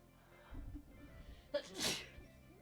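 A single muffled sneeze, stifled and soft, follows a brief intake of breath in a quiet space.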